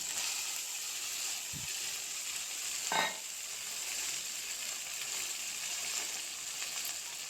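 Small moka fish frying in oil with spices and onions, a soft continuous sizzle heard close but quiet, with a couple of brief utensil knocks and no talking.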